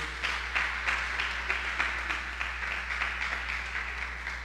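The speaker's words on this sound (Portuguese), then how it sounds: "Dá um aplauso aí bem bonito." Applause from a church congregation during a sermon, a steady wash of many hands clapping at moderate distance, continuing evenly for several seconds over a low room hum.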